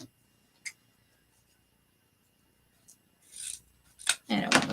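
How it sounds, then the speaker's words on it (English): Scissors snip the tails of a handmade DIY craft, a few sharp close cuts and rasping trims coming in a quick burst near the end after mostly quiet moments. "So let me trim the tails real fast."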